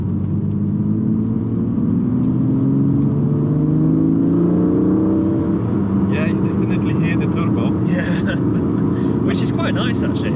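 A stock BMW M2 of the F87 generation drives with its engine droning and rising under load, a thin turbo whistle sweeping above the rumble, and people talking in the cabin over it.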